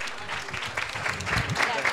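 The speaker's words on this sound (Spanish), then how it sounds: "la quiero que la recibamos con un fuertísimo aplauso" An audience applauds in welcome as a speaker takes the stage for a talk on veganism; a brief burst of clapping with murmuring voices mixed underneath.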